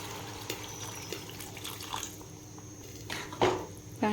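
Water is poured and splashes into a pot of bamboo shoot curry in short bursts, with a few clinks and scrapes of utensils; no one speaks.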